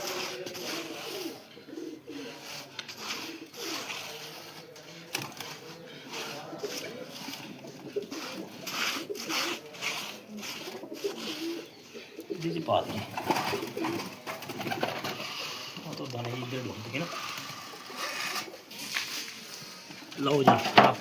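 Pigeons coo steadily in a pigeon loft while soil is being prepared for them, with someone talking over the birds throughout and rustling handling noises.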